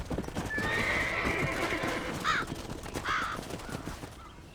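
In Red Dead Redemption, a horse's hooves clop along while it lets out a clear, rising whinny and snorts, fairly close, with birdlike calls and no speech.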